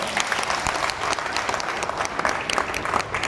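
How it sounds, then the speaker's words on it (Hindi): A hall audience claps continuously at a Mewar honour ceremony, dense and fairly loud with uneven bursts and individual sharp claps standing out, no speech over it. "ताली बजाओ।"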